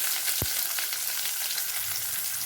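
Small shallots with curry leaves and cumin frying in hot oil for Tirunelveli sodhi kuzhambu, a steady close crackling sizzle with one short knock of a utensil near the start.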